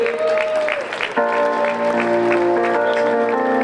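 Clapping at the presentation of the Imoco Volley women's team in Conegliano greets the assistant coach, sustained applause under steady tonal music or a held sound, with a voice briefly heard at the start.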